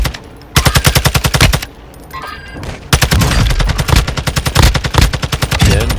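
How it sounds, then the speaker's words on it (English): Loud, close automatic gunfire in a video game shooter rattles out in rapid bursts, a brief pause between them before a longer sustained volley. "I'm getting shot through the wall."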